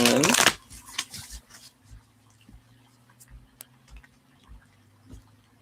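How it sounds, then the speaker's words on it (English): A deck of cards being shuffled up close, with a loud riffle at the start followed by softer, scattered taps and handling sounds in a quiet room. "I'm going to shuffle 3 more times and take it from the top and the bottom."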